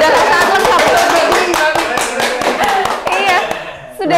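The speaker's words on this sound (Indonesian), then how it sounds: "kita tepuk tangan dulu dong" Several people clapping hands together during an indoor podcast recording about fire safety, a short round of brisk applause that tapers off, with voices over it.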